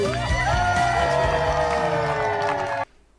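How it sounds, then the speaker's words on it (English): A lively crowd cheers and applauds in a sustained, loud wash of clapping and shouting that cuts off abruptly near the end. "Let's give them a round of applause."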